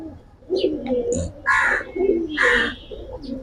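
Silver military pigeons coo in soft, throaty bursts close by, several overlapping calls in quick succession.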